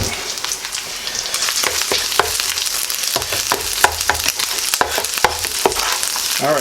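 Eggs sizzling in a hot pan for chicken fried rice while a utensil stirs and scrapes them, a steady frying crackle broken by sharp clicks and taps of the spatula, close and loud.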